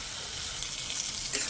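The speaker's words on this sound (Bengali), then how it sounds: "এবার এটাকে আমি খুব ভালো করে কষিয়ে নেব।" Chickpea masala for chola bhuna sizzles steadily as it is stir-fried in oil in a pan, a close, continuous hiss with a faint stirring scrape.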